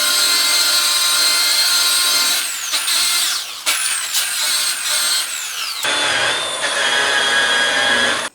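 Car polisher fitted with a wool pad whirring steadily at high speed during a paint-correction polish on a car, a loud continuous drone whose pitch shifts as it is sped up and slowed.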